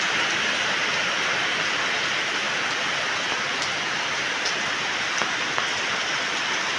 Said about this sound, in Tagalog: Sana naman ganyan-ganyan na lang ang ulan at wag na pong lalakas pa at hahangin.